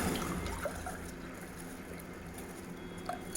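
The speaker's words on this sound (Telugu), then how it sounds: "ఇదిగోండి 2 కప్పుల వాటర్ అయితే నేను వేస్తున్నా" Water is poured from a cup into a metal pot on a lit stove for making tea, a faint soft trickle and splash at close range, quiet throughout with no voices.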